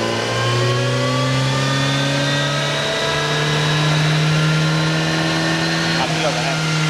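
2024 Kawasaki Z900 engine on a dynamometer in sixth gear, hot, held at high revs: a loud, continuous mechanical whine with rising pitch, then settling, filling the whole stretch without pause.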